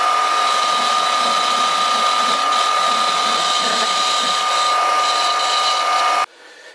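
A metal lathe bores out a 21 mm drilled hole to improve its finish, giving a loud, steady, ringing machining whine with a high tonal edge that holds for about six seconds and then cuts off sharply.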